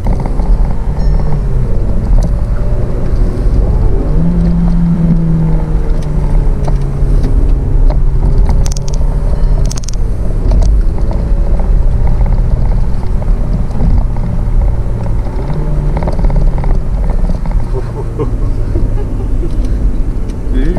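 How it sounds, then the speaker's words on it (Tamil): Volkswagen Virtus GT Plus with its 1.5L TSI turbo engine climbing a ghat road, a steady loud cabin engine drone with rising and falling tonal turbo whine throughout, wind noise and occasional voices in the car. "அந்த டர்போ சவுண்ட் பார்த்தீங்களா?"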